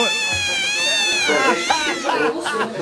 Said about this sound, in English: It's just a kitten doing what a kitten does, walking around and meowing.